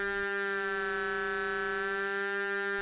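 A Buchla 250e dual arbitrary function generator modulating a synthesizer gives a sustained, bright, buzzy tone rich in harmonics, holding steady and loud for about three seconds.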